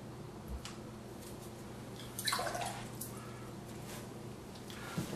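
A brush wets watercolor paper with water during outdoor sketching, giving soft, faint wet swishes and light dabbing over a steady background hiss.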